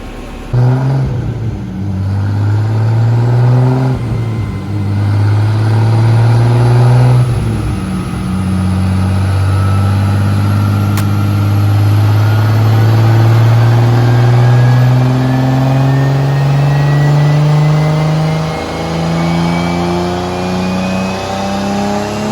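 A single-turbo E85 MKIV Toyota Supra with weak ignition coils revs hard on a dyno, its loud engine note climbing steadily through long pulls with brief drops between, close and alone without speech.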